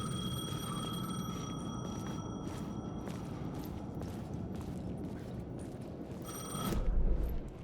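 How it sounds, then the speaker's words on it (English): A telephone rings in Alan Wake II, a steady repeating electronic ring over a dark ambient background with no speech. "phone was ringing"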